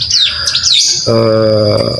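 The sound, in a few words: bar-winged prinia chirping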